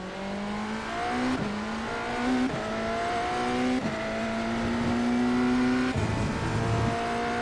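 Race cars drive around a racetrack, with one steady engine drone rising in pitch through upshifts and dropping at each shift, heard from inside or close to the car.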